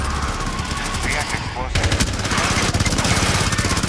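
Rapid automatic gunfire from the video game Rainbow Six Extraction, co-op mode at the Apollo Casino & Resort map, loud continuous bursts with a short break, mixed with game voice callouts.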